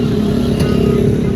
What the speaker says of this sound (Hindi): ट्रैफिक है ना, शोर तो होगा।